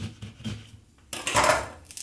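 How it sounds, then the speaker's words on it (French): A knife slices a lemon in half on a board beside a small bowl of cotton candy, a few light knocks followed by a wetter, louder cut and clatter, close and without talk. "Je vais couper mon citron en deux"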